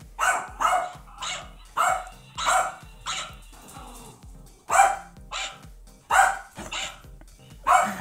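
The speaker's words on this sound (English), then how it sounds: "Dog versus the robot." A dog barking at a home security surveillance robot indoors, loud close barks coming in short bursts of two or three with brief pauses, repeated over several seconds.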